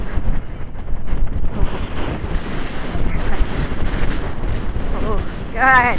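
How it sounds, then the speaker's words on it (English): Strong wind roars across the microphone during a horseback trail ride, a steady loud rumble with horse hooves thudding underneath, and a brief spoken word from a rider. "Wow, that wind, man."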